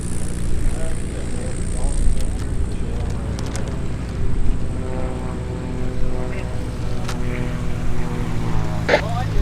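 A light propeller aircraft lands at the Oshkosh airfield during EAA AirVenture 2019. Its engine drones steadily at close range and then changes pitch, with wind noise buffeting the microphone and a radio voice talking over it.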